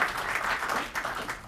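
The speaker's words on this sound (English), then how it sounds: "Can we give an applause for him?" Audience at a Richland County GOP event claps in a sustained burst of applause, dense and fairly close, with no talking over it.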